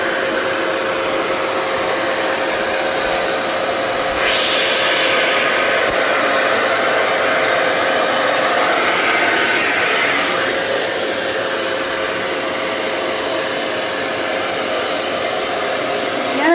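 Vacuum cleaner fitted with a multipurpose cleaning brush attachment, a loud steady motor whine running continuously and close, with a brief shift in tone midway and no talking.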